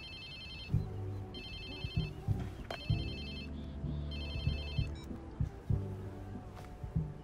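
A phone rings in Watch Dogs 2 with a bright repeating electronic ringtone, sounding in several bursts over a steady low game soundtrack and effects, with no one talking.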